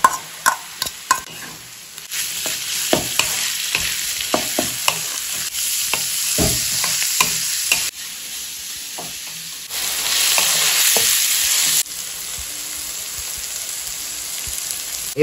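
Chopped chicken pieces fry in a pan, loud sizzling with sharp clinks of a spatula stirring in an irregular rhythm, the hiss swelling and fading as the pieces are turned.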